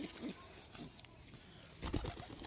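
Domestic pigeons coo softly at a home loft, a faint, brief burst of throaty calls with light background noise.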